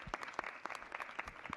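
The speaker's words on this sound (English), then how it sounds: "Let's give them a round of applause." A brief round of applause at an LGBTQ+ STEM talk at a natural sciences museum, scattered claps from a modest audience, fairly quiet and short.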